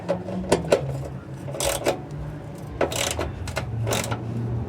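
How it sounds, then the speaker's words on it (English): A ratchet driving a 12mm socket on a security-key bolt while fastening a catalytic converter shield under a 2015 Toyota Prius, with close metallic clicking bursts and brief scrapes in short spells. "I'm just using this 12mm socket over the security key here."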